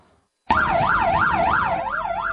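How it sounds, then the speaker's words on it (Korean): A loud wailing ambulance siren starts abruptly after a brief quiet moment, its pitch sweeping up and down in a steady rapid cycle, close and alone. "긴급 출동 중인 소방차 앞으로 앞서가는 구급차가 보입니다."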